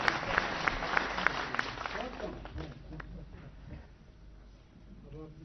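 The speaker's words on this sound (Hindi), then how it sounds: "जोरदार तालियां प्लीज" Clapping from the audience at a Panchayati Raj empowerment programme, a dense burst of applause in the opening seconds that thins out while a voice speaks over the hall.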